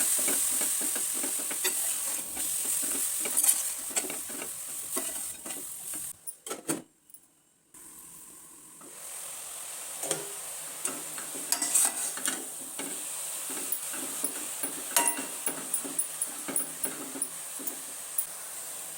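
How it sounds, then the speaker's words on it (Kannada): Grated carrot for carrot halwa fries and sizzles in a pan, with steady hiss and frequent scraping stir clicks up close. A brief pause falls near the middle before the frying and stirring resume. "ಚೆನ್ನಾಗಿ ಒಂದೆರಡು ನಿಮಿಷ ಹುರ್ಕೊಳ್ಳೋಣ."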